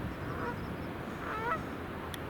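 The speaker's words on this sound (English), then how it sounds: "These geese are all loud today." A flock of geese honks outdoors at a snowy winter campsite, with a few distinct honking calls rising above a steady, moderately distant background of noise.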